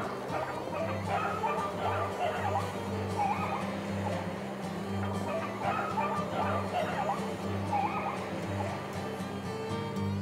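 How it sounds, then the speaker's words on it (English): Beagles on a rabbit hunt bark and yip in an excited chorus, some voices nearer and some farther off, continuing steadily over a low background rumble. "Hunting with beagles for rabbits."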